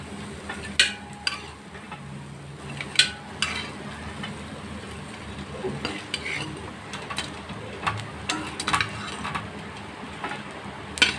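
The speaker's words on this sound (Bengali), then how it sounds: "বড়া ভাজছি হয়ে গেল কানাই শাকের বড়া" Kanai shak (dayflower greens) fritters fry in a pan, a soft, low sizzle under frequent sharp clinks and scrapes of a utensil against the cookware, with no one speaking.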